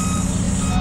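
A truck leaving Calolbon port in San Andres, Catanduanes, emits a loud steady reversing beep tone over a close, heavy engine drone in a short burst.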